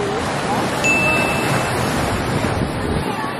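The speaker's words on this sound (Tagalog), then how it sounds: "sobrang lakas ng alon kasi na masama pa ang panahon" Loud, steady rush of surf and wind at Puka Beach, Boracay, in bad weather, a broad continuous roar with no distinct breaks, close and unrelenting.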